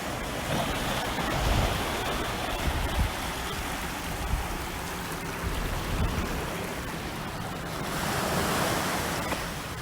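Sea waves break and wash steadily against a beach groyne jutting into the sea at Vessigny Beach, a continuous loud surf roar with surges and wind buffeting the microphone.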